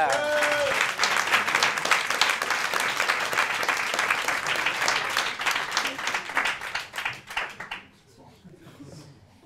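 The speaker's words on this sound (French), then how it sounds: "Je vous demande d'applaudir très fort le professeur Odysseus." Audience applause at a French television broadcast, a dense wash of many hands clapping, loud and steady, thinning out and fading near the end.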